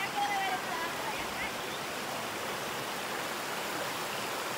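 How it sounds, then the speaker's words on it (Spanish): A clean river in Guatemala flows steadily in a continuous broadband rush, with a soft brief tone near the start and no voices. "Está bonito este río y está bien limpio"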